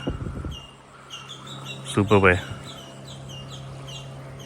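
Birds chirp and call repeatedly at sunrise by the Karli river at Devbag, Malvan, faint high tweets over a steady hum, with a short burst of nearby talking.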